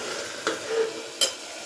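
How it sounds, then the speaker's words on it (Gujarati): Sponge gourd curry sizzling in a pan just after tempering, a soft steady crackle broken by two short sharp clinks of a stirring spoon. "અત્યારે ગલકાનું શાક વઘારી નાખ્યું છે, ખહડે છે"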